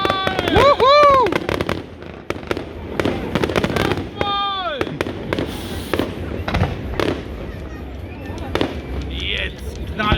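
Fireworks burst at an island festival in Krakow am See, with whistling rockets and sharp cracks and pops scattered through the scene while people cheer and talk excitedly nearby.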